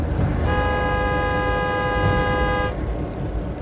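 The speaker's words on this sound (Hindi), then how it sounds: "तभी पीछे से एक और लंबा हॉर्न बजा" A long, steady vehicle horn blares behind a cyclist for about two seconds over a constant rumble of road noise, then cuts off.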